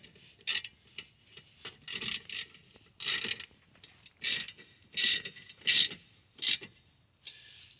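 A wrench, probably a ratchet, tightens 14 mm rear brake bolts on a 2011 Toyota Sienna LE, making a series of quiet, close, rhythmic clicking bursts with short pauses between them.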